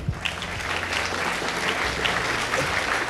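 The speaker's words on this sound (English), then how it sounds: "if everyone can help me give them a warm round of applause" A crowd at a Bitcoin and Ethereum summit meetup in Toronto gives a warm round of applause for the volunteers, steady sustained clapping from many people, with some low murmuring underneath.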